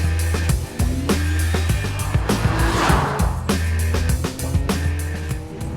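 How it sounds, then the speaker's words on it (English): BMW hot hatch with a naturally aspirated 265 bhp engine driven hard, its loud, close engine note rising in pitch through repeated gear changes, with possible tyre squeal and no talking. "The naturally aspirated 265 brake horsepower engine will hit 62 in around 6 seconds."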